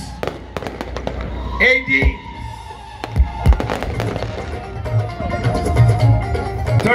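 Diwali fireworks bursting outdoors in Houston, several sharp cracks and pops scattered through the stretch with crackling in between, while people talk and shout nearby.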